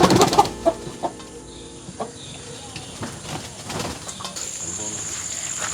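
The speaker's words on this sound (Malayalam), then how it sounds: "കോഴികളെ, ബ്രോയിലർ കോഴികൾ." Broiler chickens in a village coop cluck in a few sharp bursts at first, then scattered soft clucks over faint insect buzz and quiet background voices.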